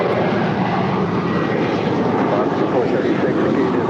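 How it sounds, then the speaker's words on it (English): An American Airlines Airbus A321 jet, eight years old, at LAX, gives a steady, loud broadband engine roar that holds evenly throughout with no breaks. "that is American Flight 4 heading back to where I just came from, JFK. It is an 8-year-old A321."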